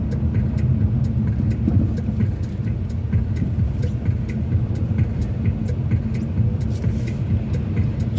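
A car drives through the streets of Saratov in December, its engine and tyre noise forming a steady, loud interior rumble throughout, with faint ticking and no talk.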